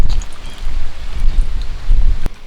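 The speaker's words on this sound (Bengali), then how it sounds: "উনানে হাওয়া লাগতেছে আর উনানটা জ্বলতেছে" Gusty wind buffeting and rumbling close to the microphone at a lit outdoor stove, with a brief sharp click near the end; no one speaks.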